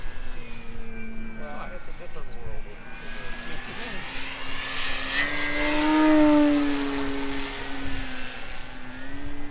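A HobbyKing Yak 11 RC model plane in a red Reno scheme flying on its maiden flight, its engine whine steady and then swelling and rising in pitch as it passes closer, loud and continuous outdoors.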